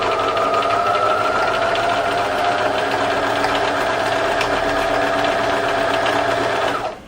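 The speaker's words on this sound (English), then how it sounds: "So I'm just going to secure this with a few stitches" A sewing machine runs in one steady, continuous whirring burst for about seven seconds, stitching lace, paper and cloth together, then stops abruptly at the end.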